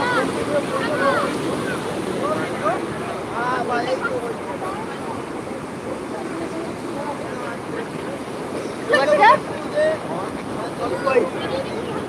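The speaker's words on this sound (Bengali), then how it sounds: "দারুণ ঢেউ দারুণ দারুণ দারুণ ঢেউ দিচ্ছে" Sea waves roll and wash at Digha Mohana beach at high tide in the morning, a steady surging roar with wind buffeting the microphone while a voice talks over it.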